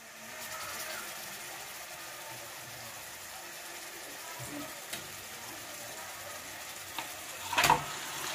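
Quail pieces being stirred into garam masala frying in a pan, a steady sizzle with occasional scrapes of the spoon and a sharper clatter near the end.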